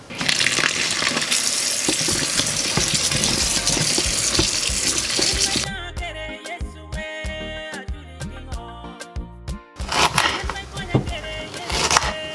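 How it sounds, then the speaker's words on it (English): Okra being washed under running water for a roasted goat meat and okra stew, with a steady gush of tap water for about six seconds, then quieter splashing and handling of the pods, and a brief louder rush near the end. "I'm going to wash my okra now."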